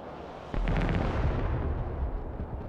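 Incoming artillery in the video game Broken Arrow: a sudden heavy impact followed by a rumbling blast and a rapid series of crackling secondary bangs, loud and close, with no talk.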